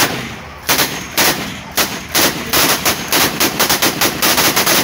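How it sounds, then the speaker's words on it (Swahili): Volleys of rifle fire in a gunfire salute at a soldiers' funeral, loud sharp shots cracking in quick irregular bursts and clusters, close and dominant throughout. "huku kukirindima risasi kadhaa ili kuonesha heshima ya vijana hao waliopoteza maisha kwenye uwanja wa vita"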